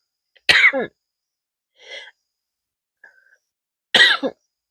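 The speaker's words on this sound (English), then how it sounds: "Sorry, I had to cough." Two sharp coughs, separated by a couple of seconds, with a soft throat sound and a small click between them; close and otherwise quiet.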